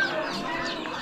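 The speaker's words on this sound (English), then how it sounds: "Got some hens here." Hens cluck in a close, steady chatter at an Amish animal auction, several birds overlapping with no voices.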